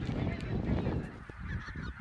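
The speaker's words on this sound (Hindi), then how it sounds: "आप देख सकते हो कितने सारे पक्षी हैं।" A flock of geese honks in open farm fields, a dense, continuous chorus of overlapping calls that stays loud and steady throughout, with no talking.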